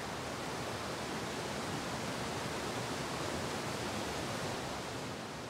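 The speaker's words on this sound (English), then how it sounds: "below a raggedy black rock called the Devil's Courthouse, is spectacular Courthouse Falls" Courthouse Falls on Courthouse Creek, pouring through a chute over rock into the forest below: a dense, steady, broadband roar of falling water, close and unbroken throughout.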